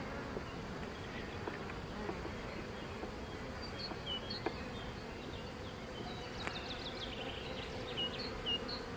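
Dense buzzing of many honeybees swarming close around an open hive, a steady insect drone with occasional louder passes near the ear.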